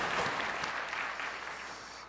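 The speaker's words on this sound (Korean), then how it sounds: "영광의 박수를 하나님께 드리겠습니다." A church congregation applauds during a worship service, a soft, distant wash of many hands clapping that gradually fades.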